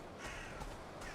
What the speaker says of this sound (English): And a crow.